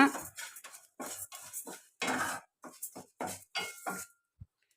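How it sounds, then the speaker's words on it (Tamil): Coriander seeds being dry roasted in a pan for homemade rasam powder, with a spoon stirring and scraping them in a series of short clinking, rustling bursts separated by brief pauses. "இப்போ தனியாக இதை வந்து நல்லா வாசனை வர்ற வரைக்கும் வறுத்துக்கலாம்"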